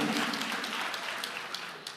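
A church congregation claps together in a sustained, dense burst of applause that holds steady at a fairly even level from start to finish.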